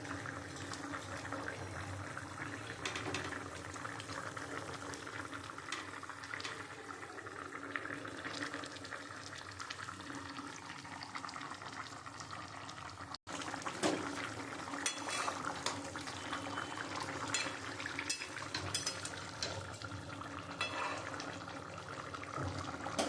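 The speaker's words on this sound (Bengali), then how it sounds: "মাছের ঝোলটা ফুটে গেছে" Fish curry with potato and eggplant boiling in a pot, a steady close bubbling and gurgling with light pot clinks, continuous for the whole stretch.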